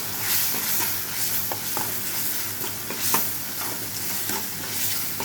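Ginger garlic paste is stirred into goat blood curry frying in a pan, a steady close sizzle with repeated scraping strokes of a spoon, no talking.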